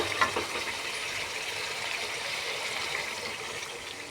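A pan of curry sizzles and hisses steadily after a bowl of water is poured in, with a brief splash near the start and continuous close frying noise throughout, no voices.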